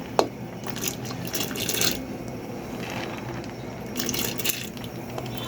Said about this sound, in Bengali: এখানে আমি দিয়ে দিচ্ছি, আমি ডালটা প্রেসার কুকারে দিয়ে সিদ্ধ করে নিব।